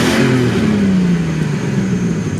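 A 1998 Ford Explorer SUV engine revs loudly through its exhaust, a steady close-up roar with a falling pitch sweep as the revs settle, heard alone without talk.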